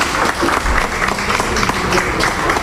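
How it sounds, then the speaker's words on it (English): Loud, dense applause from a crowd at a sports prize-giving event as a winner receives a television set, a continuous wash of clapping with crowd noise mixed in. "A round of applause."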